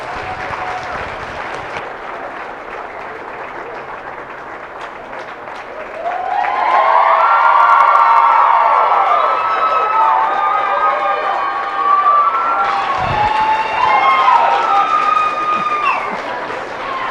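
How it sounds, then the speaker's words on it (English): A crowd at a 4-H and FFA beef showmanship and steer show bursts into sustained applause and cheering for the champion showman, rising sharply partway through and continuing steadily, while an announcer talks at the start. "let's give him another big round of applause"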